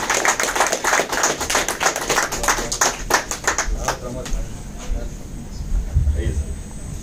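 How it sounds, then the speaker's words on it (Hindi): Dense clapping from a crowd, strongest at first and thinning out over several seconds, with a voice speaking over it near the end. "जबरदस्त तालियां हो जाए दोस्तों।"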